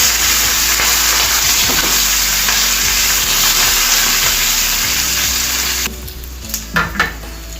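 Spices with half a spoon of turmeric sizzle and fry steadily in a pan for raw tamarind pulihora, a constant loud crackle that drops away near the end to leave a few clinks of a spoon against the pan.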